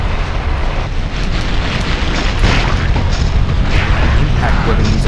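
Explosions and booming blasts in a Spider-Man video game fight, a dense continuous roar of combat noise with heavy low rumble and no clear pauses.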